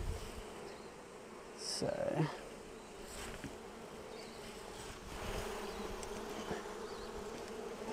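Bees buzzing steadily around an open beehive during a brood inspection, a dense close hum with individual insects swelling louder as they pass near, and a brief spoken word over it.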